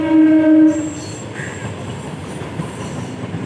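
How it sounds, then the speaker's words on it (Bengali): A train horn blasts briefly, then a train rolls past close by with a loud, steady rumble and rattling wheels that carries on to the end, no one speaking. "আর এদিক থেকে ট্রেন আসছে।"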